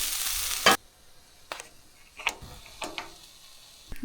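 Meat browning in a pan for a zucchini lasagna, heard as a loud broadband sizzle for under a second, then quieter with a few scattered ticks and small pops.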